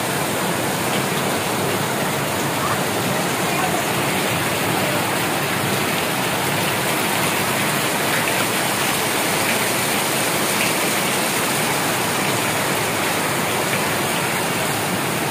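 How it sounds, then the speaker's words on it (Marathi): Heavy monsoon rain pours steadily in Kolhapur, a dense, loud, unbroken roar of water lasting the whole stretch with no voices. "तर खूप म्हणजे खूप मोठा पाऊस आहे आणि हा एक सलग चालू आहे"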